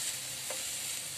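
Sambar with softened tomatoes and drumsticks cooking in a pot, a short steady sizzle and bubbling hiss with a faint stir sound midway, close and even.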